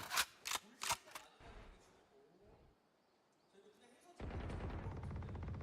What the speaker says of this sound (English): There's the gunshots in B main.